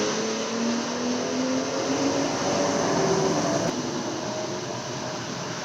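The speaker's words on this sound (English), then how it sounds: "I live next to a road, so sorry about the noise." Steady road traffic noise drifting in from outside beside a road, a continuous broadband rush with a faint passing hum, moderately loud and unbroken.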